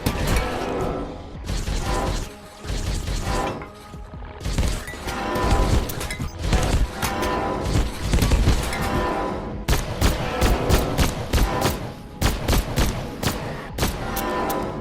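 Gunfire in the Abiotic Factor video game as a magazine is emptied: dense bursts of rapid shots, some runs of evenly spaced single cracks, loud and close, with a voice faintly under the fire at times.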